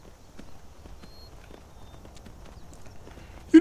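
Horse hooves clip-clop at a steady walking pace in the video game Skyrim, soft and fairly close against a quiet outdoor background, with a sharp louder burst right at the end.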